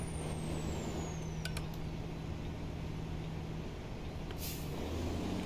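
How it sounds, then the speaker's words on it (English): A Kenworth C500 truck hauling a stock trailer in a trucking game brakes on its Jake brake, a steady loud engine roar and drone with brief higher hisses, heard alone without talk. "Jake brake is okay sounding."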